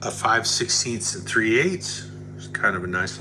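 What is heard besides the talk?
No everyday noise stands out behind the speech.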